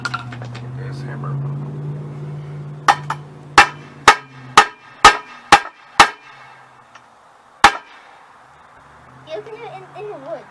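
A hammer strikes metal while a U joint is being replaced in the woods: about nine sharp, loud, separate blows in an uneven rhythm, echoing, with a low hum and voices before and after.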